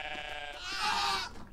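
Goat in the video game Everything giving a single drawn-out bleat with a wavering tone, rising in the middle and then fading, heard alone and up close.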